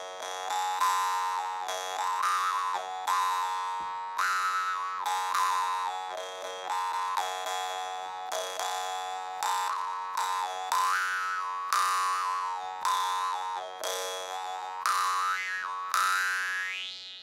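A jaw harp (vargan) is played in a high-pitched technique, its bright twanging drone pulsing in steady rhythmic strokes with sweeping overtone melodies, close and loud, with no talking.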